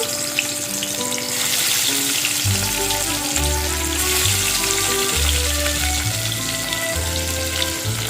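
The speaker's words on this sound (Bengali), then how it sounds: "তেল গরম হয়ে গেছে মাছগুলো দিয়ে দিচ্ছি ভাজার জন্য" Tilapia fish pieces fry in hot mustard oil, giving a loud, steady crackling sizzle that lasts throughout, with low tonal sounds running underneath.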